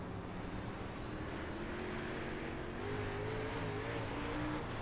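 In-car sound of a race car during a race: a loud, steady engine drone with a rising whine as it accelerates, plus constant road and wind rush.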